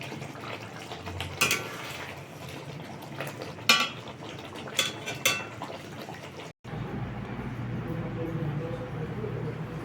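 Fried pabda fish slid into a light gravy in a pan, with metallic utensil clinks and a few sharp scraping knocks, then a steady low sizzle and bubbling.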